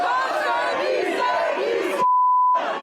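A crowd of protesters outside an election campaign headquarters event shouts and chants loudly in unison with rising swells. It is cut by a steady electronic beep tone before the chanting briefly returns.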